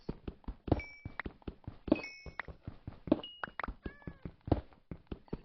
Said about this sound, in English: I can hear the kitty cats